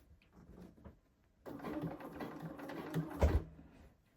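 A sewing machine stitches a blazer shoulder seam over stay tape, a steady mechanical whir running for about two seconds after a quiet start, with a brief louder clunk near the end.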